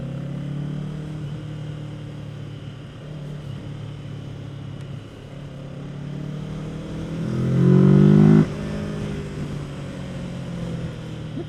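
Kawasaki Z650 motorcycle pulling in third gear on a winding mountain road, a steady engine drone that rises in pitch and loudness as it accelerates, peaking before easing off, heard from the rider's position with wind noise.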